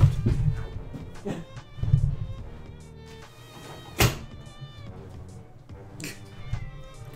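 A house cat meows several times while messing with a window, its calls spaced irregularly among a soft thunk and light knocks nearby, with a faint musical game background.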